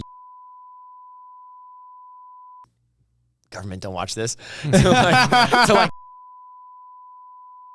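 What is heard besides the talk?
censor bleep tone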